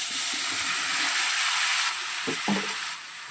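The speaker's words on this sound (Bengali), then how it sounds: "চিংড়ি মাছটা রান্না করছি।" Prawns fry in a pan with a loud, continuous sizzle, then a few scraping stirs near the end as the frying eases off.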